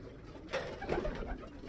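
Pigeons cooing inside a loft, soft low coos and a few faint bird calls over a steady background hum, with no talk.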